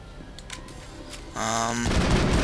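Gunfire while fighting Geth in Mass Effect: scattered faint shots early on, then a loud burst of rapid automatic fire and booming impacts that carries to the end.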